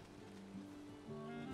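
Steady rain in the survival game Valheim, a soft broadband wash at low level with faint tonal game ambience over it, no voices.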